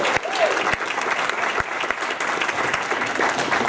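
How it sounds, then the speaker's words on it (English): A round of loud applause from a convention crowd at the JordanCon 2013 opening ceremonies, welcoming the convention chair, with a few sharp individual claps and whoops standing out of the dense clapping. "A round of applause, please, for our esteemed convention chair"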